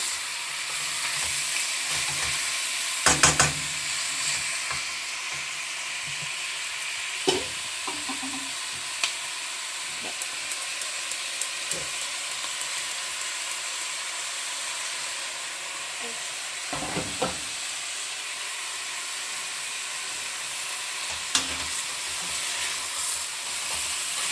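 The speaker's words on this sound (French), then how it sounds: "On laisse bien dorer les morceaux." Veal pieces browning in a hot pan give off a steady sizzle that runs throughout, broken by a few scattered clacks of stirring. There is no talk.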